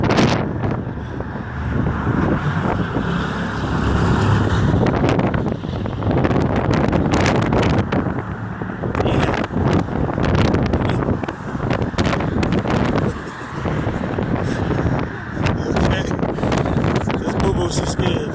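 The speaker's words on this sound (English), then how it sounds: "it's so windy up here." Strong gusting wind buffets the microphone on a bridge overlooking Hoover Dam, roaring loudly and steadily throughout, with people talking now and then over the rush.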